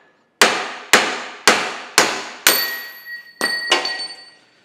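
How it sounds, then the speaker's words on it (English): Hammer blows driving a bearing into a steam locomotive connecting rod ring out as seven sharp metallic strikes, the first five evenly spaced and the last ones ringing with a bright lingering clang, close and loud with no talk. "Let's see if it'll hammer down."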